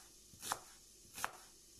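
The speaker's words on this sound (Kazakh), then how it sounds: "Енді пиязды да өстіп тураймыз." Two faint knife strokes through onion onto a cutting board while preparing palau, evenly spaced about three quarters of a second apart, close and without talk.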